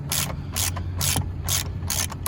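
Ratchet wrench clicking in quick bursts as it cracks loose a steering wheel bolt on a 10th-generation Honda Civic, loud and close, about five rapid ratcheting runs with brief pauses between.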